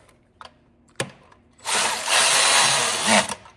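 A power tool whirs loudly for about two seconds while working on the intake horn of a 6.7 Cummins truck, preceded by a few sharp clicks and knocks.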